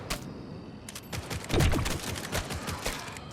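Rapid SMG gunfire from the video game Grind Survivors, a dense crackling stream of shots with a few louder bursts, steady and close over about three seconds.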